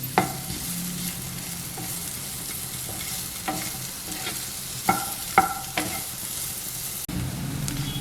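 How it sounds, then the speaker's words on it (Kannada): Paneer cubes fry over medium heat in a pan, with a steady sizzle under repeated scraping and clinking of a spatula stirring them. "ಹುರ್ಕೋಬೇಕಾಗತ್ತೆ ಪನ್ನೀರ್ನ"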